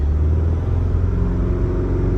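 A low-mileage Mazda CX-5 engine held at around 2000 to 2500 RPM, close up as a loud, steady low rumble with little variation.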